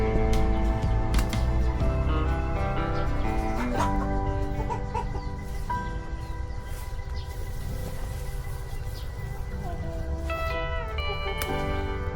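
Chickens cluck over a dense, steady background of overlapping tones, the clucks scattered and moderately close for the whole stretch.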